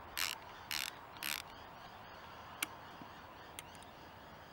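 A bolt is loosened with a ratchet on the gearshift stopper arm of a Honda CT110 Trail: three short bursts of ratcheting clicks come close and clear, followed by a few isolated metallic ticks against a quiet background.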